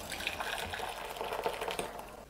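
Water gushes steadily from a tap into a pasta pot for a couple of seconds, a continuous close splashing fill with no voices.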